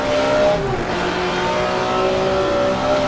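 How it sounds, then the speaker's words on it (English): An AC sports car engine roars loudly as it accelerates on the Willow Springs track, rising revs droning steadily from inside the car, with no talking. "Accelerating now towards the end of the lap."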